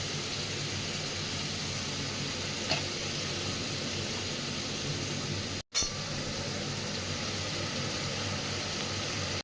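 Spice paste of green chilli, coriander, cumin and turmeric frying for a vegetarian papaya curry, giving a steady, even sizzle with a brief break partway through and no talking.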